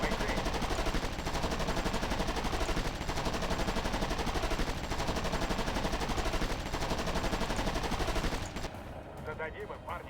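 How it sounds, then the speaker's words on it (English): A machine gun in the video game Wargame AirLand Battle fires continuously, a loud, dense stream of rapid shots that holds for about eight seconds before dropping away. "Same can be done with the machine gun."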